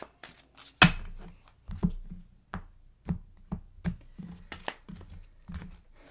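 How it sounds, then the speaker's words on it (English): Tarot cards being shuffled up close: a brisk, uneven run of sharp card slaps and soft flicks over about six seconds, with no voices. "So a couple more shuffles here for Taurus."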